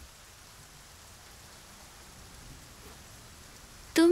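Steady, faint rain falls as an even hiss throughout, ending with a sudden loud tone at the very end.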